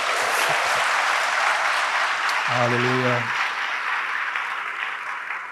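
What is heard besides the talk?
congregation applause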